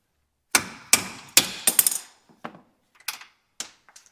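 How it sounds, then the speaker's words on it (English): Sharp metallic taps of a tool driving a front strut bolt through on an Aston Martin DB9, a quick burst of close, ringing knocks followed by a few softer, spaced strikes. "I'm going to just give it a tap, and we should be able to push the bolt through"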